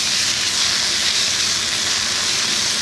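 Boiling steam hissing in a hot pan while cooking Chinese broccoli for pad see ew, a loud continuous broadband rush with no breaks.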